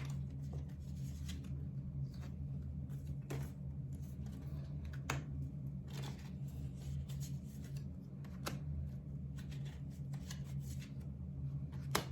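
Tarot cards handled and shuffled for a reading, with repeated sharp riffling bursts and soft sliding rubs at irregular intervals over a low steady background hum.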